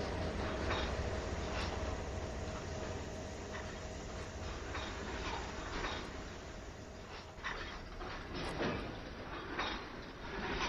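A long freight train rolling in the Train Sim World 2 simulation on the Sand Patch Grade, a steady loud rumble of wagons with faint clickety-clack and occasional metallic squeals, continuous throughout.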